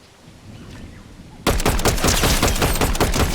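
Gunfire in the Fortnite video game erupts suddenly after a quiet moment, becoming loud, rapid automatic bursts of repeated shots that continue to the end.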